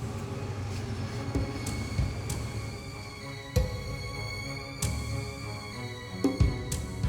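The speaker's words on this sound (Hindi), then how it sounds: "पीछे रेलगाड़ी की आवाज सुनाई दे रही है।" A train passes on a nearby track, a steady low rumble of wheels and carriages with scattered clanks and metallic knocks, moderately loud and continuous, with no voices.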